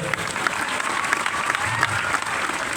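A crowd at a welcome event in Baramati claps steadily, a dense patter of many hands throughout, with faint voices beneath.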